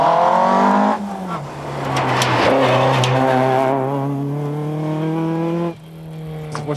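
Rally car on the Circuit of Ireland Rally, a 23-year-old car in 1996, engine roaring loudly up through the gears with rising revs, a brief lift and shift midway, then hard acceleration again, close and without voices.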